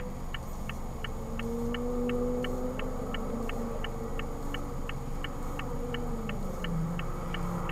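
A car speeds past on a road, recorded on dash cam footage as a steady rumbling engine and road noise. A regular beeping tone repeats throughout.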